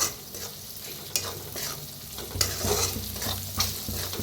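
Turmeric and red chili powder roasting in oil over a village wood-fired stove, a continuous sizzle broken by repeated scraping stirs of a spoon in the pan, close and steady with no talking.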